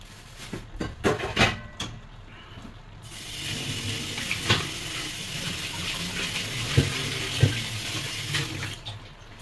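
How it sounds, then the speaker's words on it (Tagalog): Water for a beef papaitan broth runs and splashes in a pot, a few sharp knocks and pours at first, then settling into a steady rushing, bubbling wash. "Tignan natin siyang kumulo."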